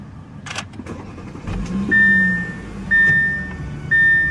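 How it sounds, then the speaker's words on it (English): A 2012 Audi A7 with push-button ignition starts up: a few soft clicks, then the engine cranks and catches into a steady idle, with repeated high electronic chimes sounding from the cabin, loud and close. "Just put your foot on the brake, hit the button to start."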